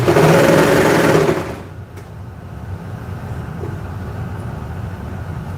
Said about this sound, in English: Getting in the last little bit of sewing time before we have to call it quits